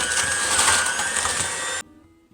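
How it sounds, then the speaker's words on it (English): An electric beater creams butter and brown sugar for oatmeal peanut butter cookie dough, a loud steady whirring grind that stops abruptly near the end, leaving near silence. "And now I'm going to start creaming them together."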